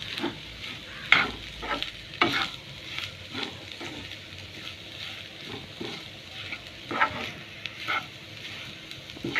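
A spoon stirs and mixes a potato filling with turmeric and salt in a frying pan. Close scraping strokes come in uneven bursts over a gentle, continuous sizzle.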